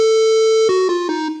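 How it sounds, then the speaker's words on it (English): A bright NES-style square-wave chiptune tone: one long steady note, then a short run of stepped descending notes with crisp attacks, loud and alone. "I'll play that square wave again."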